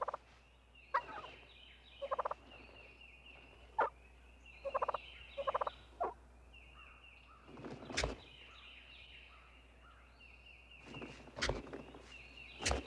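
Wild turkeys gobble in the open, with repeated loud, rattling calls in bursts spread over several seconds and quieter sounds between them. Some calls come in quick pairs, and a few sharp thumps are mixed in.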